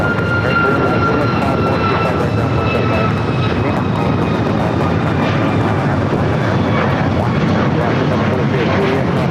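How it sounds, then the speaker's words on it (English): Boeing 737 MAX 9 passenger jet on flight 798 to Seattle, passing over LAX under hazy blue sky, a steady broadband engine roar with faint whining tones holding loud throughout. "That flight was heading to Seattle, flight 798, 737 MAX 9."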